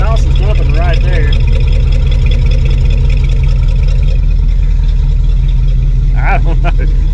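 An engine fitted with a new Evil Energy performance carburetor runs at a steady idle, loud and close, while people talk over it.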